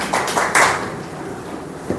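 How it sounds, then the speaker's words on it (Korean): A small audience at a press meeting at a Korean lawmaker's local office gives short bursts of clapping, a few quick rounds of hand claps that fade within two seconds. "박수 한번 부탁드리겠습니다."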